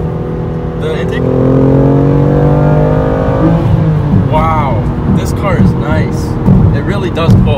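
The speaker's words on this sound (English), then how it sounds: "Oh, you hear the turbo? The intake?" A BMW M2 CS accelerating on a test drive, its engine droning steadily and rising in pitch with turbo and intake sounds, while people talk inside the car over it.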